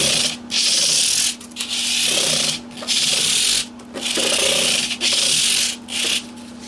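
Repeated back-and-forth strokes of 320 grit free cut sandpaper on a padded bullnose block across the body of a 1991 PRS Custom 24 guitar, close and loud hissing rubs in bursts separated by short pauses.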